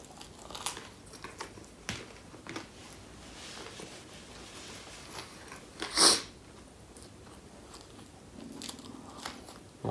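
Crispy, freshly baked pizza is bitten and chewed close up, giving scattered quiet crunches and one loud, sharp crackling bite midway, with soft mouth noises between.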